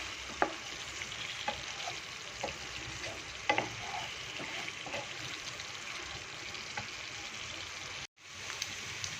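Masala sizzling in hot oil in a pan for biryani, a continuous close frying hiss with a few sharp crackles and scrapes of stirring, running steadily before a brief cut near the end.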